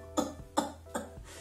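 Three short, dry coughs in quick succession, close and fairly soft, with a brief pause between each and no talking.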